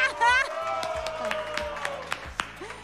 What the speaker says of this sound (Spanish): Por favor, un aplauso al hachapuri